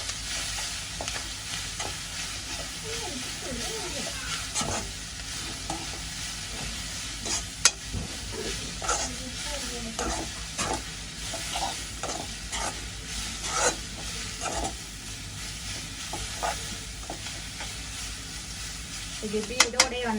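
Spice powder being stirred into food sizzling and frying in a pan while a Diwali feast is cooked, steady close sizzle with repeated scraping and stirring strokes and occasional utensil clinks, no talk.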